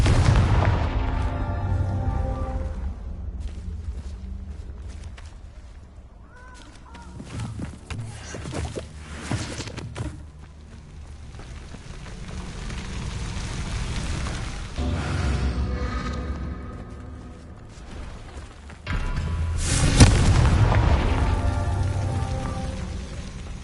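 Repeated fiery Confringo spell blasts in the video game Hogwarts Legacy, booming explosions and crackling bursts rolling through a sustained noisy battle, with several loud peaks clustered near the end.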